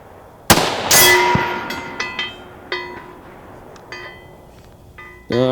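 A rifle fires at a 300-yard target: one sharp, loud report rings out close by, followed by a long fading echo and a few lighter clinks and a second crack.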